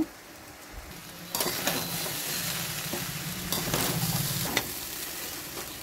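Fried rice sizzling in a pan as ghee and fried garam masala are stirred in, a soft steady frying hiss, with occasional scrapes and clinks of a utensil against the pan.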